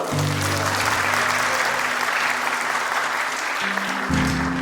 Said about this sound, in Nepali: हामी ताली बजाइदिनेछौँ ल